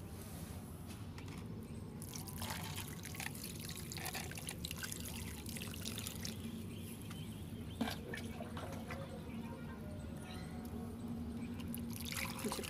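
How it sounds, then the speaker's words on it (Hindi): Water pours and trickles steadily into a potted thuja plant, a close, continuous splashing and dribbling with a few small knocks and no talk. "अब हम इसमें इसकी वाटरिंग करेंगे"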